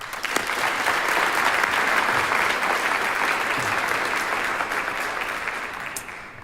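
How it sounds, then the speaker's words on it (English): Sustained, dense applause from a large audience at a high school commencement ceremony, steady and full for several seconds before thinning out near the end. "Let's give them one more round of applause."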